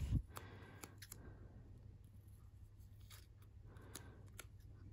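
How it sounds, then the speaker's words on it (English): Scissors snip through a planner sticker sheet in a few sharp, close clicks spread over a quiet room hum, with no talking. "We're going to snip it in half."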